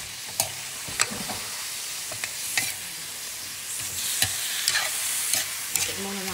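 Meat stirred and frying in a pan for a home-cooked dinner: a steady hiss of sizzling oil runs throughout, broken by repeated sharp scraping clicks of a utensil against the pan, alone with no talk.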